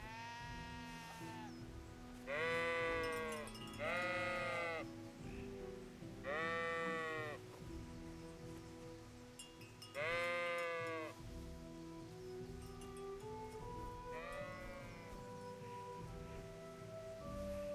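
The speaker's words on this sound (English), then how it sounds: "Hello, sheepy. Sheeps." Sheep bleat in the video game Kingdom Come: Deliverance, several separate wavering calls at irregular intervals, fairly near and clear over a soft outdoor ambience with low background tones.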